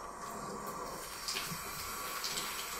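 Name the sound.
rinsing eyeshadow brushes under running water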